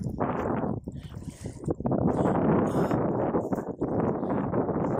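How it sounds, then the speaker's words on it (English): Loud, rumbling wind buffets the microphone in irregular gusts, a low roaring that swells and drops throughout, outdoors while magnet fishing in Finland. "it's a little bit windy in here"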